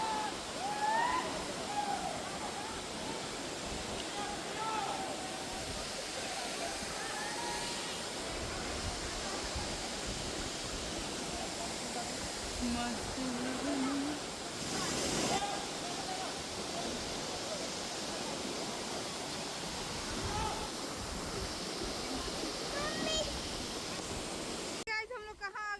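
Mohini waterfall in Nepal pours in a steady, dense rush of falling water that fills the scene without pause, with faint voices carrying in the background.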